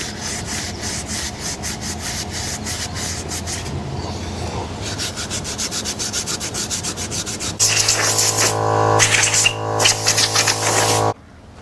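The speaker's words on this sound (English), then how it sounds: "get some Scotch-Brite in here, clean this up" A Scotch-Brite pad scrubs a brake part on a Chevrolet C10 that has been sitting a while, during a disc brake conversion: loud, fast back-and-forth rubbing strokes with a brief pause and a harsher, louder stretch near the end.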